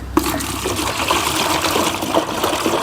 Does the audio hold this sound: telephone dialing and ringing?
no